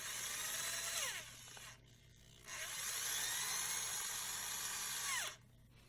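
A reversible power drill whirs close by in two sustained runs while driving a Heli-Coil insert into a stripped aluminum bolt hole, briefly bogging and grabbing before stopping, with a short pause between runs.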